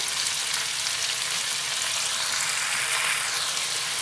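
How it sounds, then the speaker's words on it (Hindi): Chopped tomato with salt, red chilli, coriander and curry spices frying in a pan for a cauliflower curry, an even, continuous close sizzle without pauses. "3-4 मिनट अच्छे से भून लेते हैं।"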